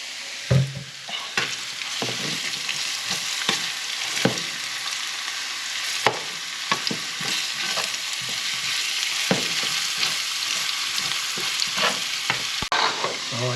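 Ginger and garlic fry together in hot oil for a crab dish, a steady close sizzle broken by repeated scraping clicks of a utensil stirring through the pan.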